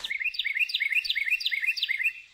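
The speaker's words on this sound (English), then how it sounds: "I hear a bird." A bird outdoors on a hog hunt sings a quick, bright series of repeated chirps in a steady rhythm, close and clear against a quiet background with no talking.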